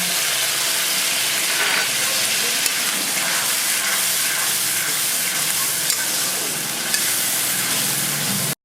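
Spice paste and chili paste fry hard in a pan. A loud, dense sizzle runs throughout, with scraping stir strokes and small clinks of a utensil against the pan, and no talk.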